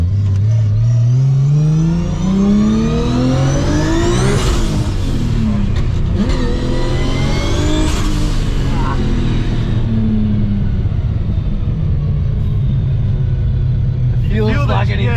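A Nissan GT-R accelerating hard on a street, engine pitch climbing steeply through two rising runs with gear changes between, loud and close from inside the car, followed by a steady cruising drone; people talk and react over it.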